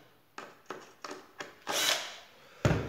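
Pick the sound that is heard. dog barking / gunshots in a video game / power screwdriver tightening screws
power screwdriver tightening screws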